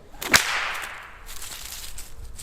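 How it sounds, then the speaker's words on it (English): A single loud, sharp crack from an 8-foot whip snaps out once near the start, followed by a brief fading swish and quiet room noise. "8 foot whips can give out some of the loudest cracks"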